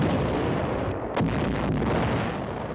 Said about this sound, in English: 88mm guns slowed up our landings and imperiled the entire beachhead operation.